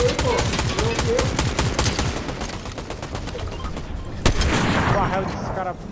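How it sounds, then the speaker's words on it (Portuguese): Rapid Fortnite gunfire in a dense barrage of sharp, closely spaced shots that runs almost without pause, with one louder blast near the end. "Tirar só um monte de tiro"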